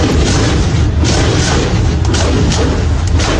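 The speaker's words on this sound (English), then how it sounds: "That's the volume of the water hitting the car." Loud, continuous roaring pounding of heavy water on a car body inside a flooded tunnel, dense and booming, with low thuds running throughout and no voices.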